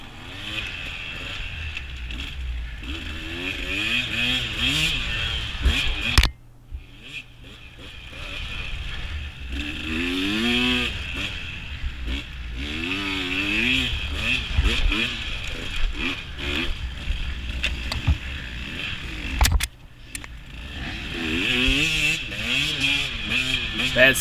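A dirt bike engine labours through a hare scramble trail race, revving up and down in repeated surges close by, with a brief drop-out midway and people talking over it.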